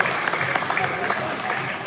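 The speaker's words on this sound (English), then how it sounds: "Give a round of applause." A pow wow crowd claps for a flag carrier, with loud, dense applause close by and an announcer's voice heard over it.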